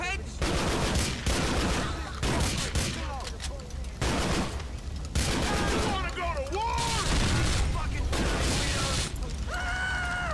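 Gunfire crackles through a shootout in the video game GTA 4: The Lost and Damned, loud sustained bursts and rapid volleys mixed with game effects, while players talk excitedly over the action.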